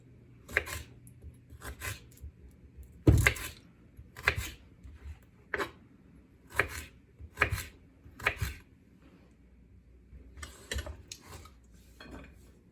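A knife chops celery at an angle on a cutting board for a shrimp and mixed vegetable stir-fry. Crisp, close chops land in an uneven rhythm, alone with no talking.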